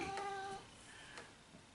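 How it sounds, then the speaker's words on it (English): A cat meows a few times in quick succession, close and fairly quiet, with a faint voice briefly in the background. "Hey, kitty cat."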